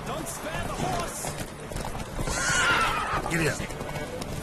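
Horses in The Witcher 3 whinny loudly and gallop with rapid clip-clop hooves as a race starts, the neighs rising over the running hoofbeats while a voice talks throughout.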